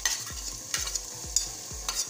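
Tomatoes landing in garlic ginger paste frying in oil, five evenly spaced thumps and scrapes of stirring about every half second over a constant bright sizzle, close by and with no talk.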